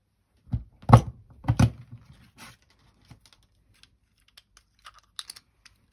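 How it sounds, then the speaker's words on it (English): A craft punch cuts butterflies from watercolour card with a few loud clunky thumps and snaps, followed by scattered faint taps and small clicks of handling paper. "I'll punch them over here because that will make"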